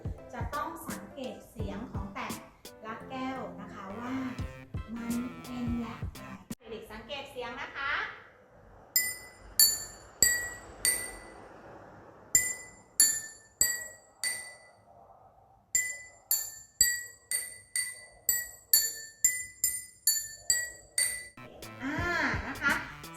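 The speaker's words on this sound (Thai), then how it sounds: "เสียงของแต่ ละแก้วนะคะจะ เสียงจะต่างกันนะคะ เพราะว่าอะไรเพราะว่านะคะ น้ำที่มี ปริมาณที่ต่างกันนะคะก็จะทำให้เกิดเสียงที่ต่างกันนะคะ" Glasses holding different amounts of water are tapped one after another, giving clear ringing pings at different pitches in quick runs, after someone speaks to children at the start.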